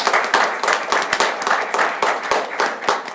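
A small group at a transit agency board meeting applauds, a close, moderately loud burst of hand clapping with individual claps audible in a loose, uneven rhythm.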